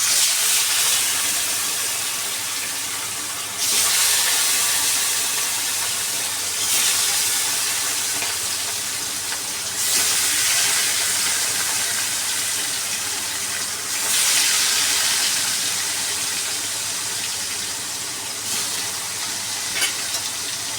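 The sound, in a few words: fish frying in a wok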